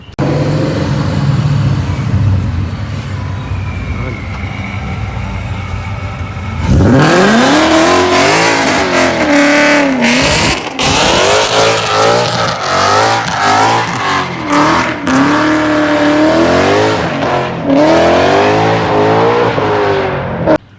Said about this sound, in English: If I can find a clip of my car when it was pro charged, I'm gonna put that right here in the video right now.